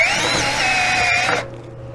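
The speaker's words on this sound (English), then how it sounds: "Step drill does a nice job of opening up that plastic" A step drill bores through the plastic belly pan of a RZR utility vehicle, giving a high whining grind that cuts off abruptly after about a second and a half, close and loud.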